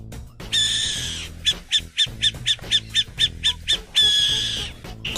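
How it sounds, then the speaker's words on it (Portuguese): An owl calls in a quick series of short hoots between two longer, harsh screeching calls. The sound is loud and close, with a steady low background underneath. "Coruja."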